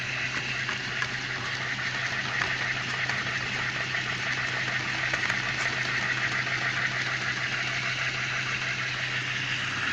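A small motor, hand-spun up to speed, whirs steadily at high revs for the whole stretch with a constant hum and a bright, even whine, close and fairly loud, with no talking.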